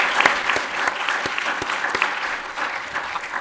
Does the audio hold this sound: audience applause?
yes